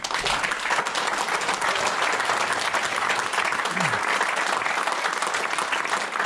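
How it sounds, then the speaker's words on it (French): An audience applauds municipal councillors at a tribute event in Val de Chalvagne, with sustained, dense clapping that stays loud and even from start to finish. "je vous demande de les applaudir très très fort"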